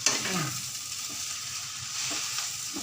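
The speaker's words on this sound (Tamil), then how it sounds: "எல்லாத்தையும் ஒன்று சேர்ந்து கலக்கி விடுங்க" Egg kothu chapati stirred and frying in a pan, a steady close sizzle with soft scraping from the stirring, and no voices.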